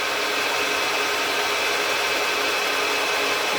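A machine tool taking a 10 thou cut at 1200 RPM produces a steady, loud, hissing cutting noise with an even high whine, continuous and unchanging throughout with no pauses.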